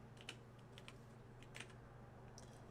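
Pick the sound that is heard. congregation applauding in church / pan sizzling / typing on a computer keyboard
typing on a computer keyboard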